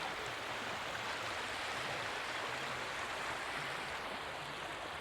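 Steady rushing river water flows continuously over rocks, a soft broadband wash, fairly quiet and unbroken, with no voices.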